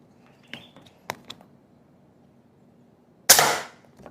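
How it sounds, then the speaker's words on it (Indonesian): A sharp, loud shot from a regulated PCP air rifle near the end, with a snappy crack and brief tail, preceded by a few faint clicks of handling. "teman-teman bisa lihat itu tembakan yang pertama"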